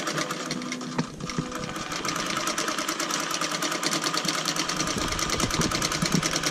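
A quilting sewing machine sews a tie-off stitch on a quilt with a steady rapid mechanical chatter, close and continuous throughout.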